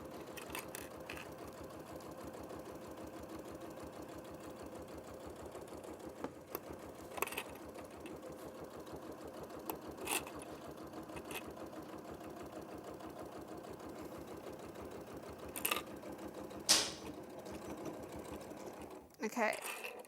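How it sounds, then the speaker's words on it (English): A sewing machine runs steadily as it stitches quilt layers together, a close, continuous mechanical whir with a few clicks and knocks. Someone talks intermittently over it. "And just sew all the layers together so it's not a hassle when you come to do the binding"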